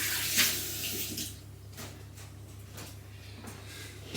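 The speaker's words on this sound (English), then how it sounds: "rinse my potato, rinse my hand" Tap water runs steadily into a sink as a potato and hands are rinsed, a soft continuous wash close by with a brief louder splash near the start, then settling into a low even flow.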